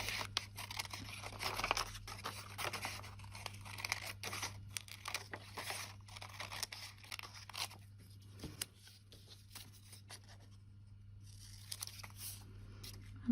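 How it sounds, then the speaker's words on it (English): Scissors snipping around a cross-stitch pattern, with soft close rustling and crinkling of the fabric and a series of quiet, irregular cuts over a faint background hum. "So we just want to cut this out."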